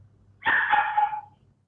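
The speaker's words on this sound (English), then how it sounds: "I hear somebody's puppy dog." A puppy barks once in a short, fairly close yelp with a slightly drawn-out tail, heard over a quiet low room hum during an online meeting.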